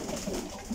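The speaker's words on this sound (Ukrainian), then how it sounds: "Одеський голуб." A sandy-coloured Odessa pigeon, called a lemon, coos in low, soft, repeated notes at a breeder's loft. The sound is close and continuous, with no talk.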